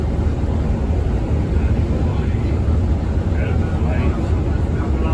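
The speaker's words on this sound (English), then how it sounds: "Oh, yeah, there's a plane, I can see it." An airplane passes overhead above the M4 motorway in Hungerford, Berkshire, a broad steady roar blending with continuous traffic rumble, while people chat nearby.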